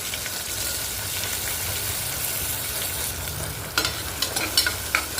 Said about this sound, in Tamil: மூணு பெரிய வெங்காயம் கட் பண்ணி வச்சுருக்கேன் அதை ஆட்